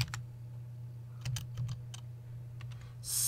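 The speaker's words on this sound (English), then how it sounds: "So basically all you got to do is type in sudo" Typing a command on a computer keyboard during a Linux software install on Ubuntu KDE: a few sharp key clicks in irregular bursts over a steady low hum, ending in a brighter clatter.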